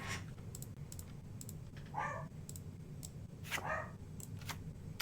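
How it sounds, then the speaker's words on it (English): A 14-year-old dachshund gives two short muffled barks, rather faint and distant, amid scattered keyboard clicks and clacks. "I have no idea why the Dachshund is just barking"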